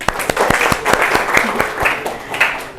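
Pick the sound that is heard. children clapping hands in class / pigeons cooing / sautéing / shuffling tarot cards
children clapping hands in class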